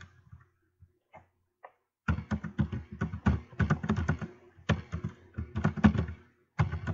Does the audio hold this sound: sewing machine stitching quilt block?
no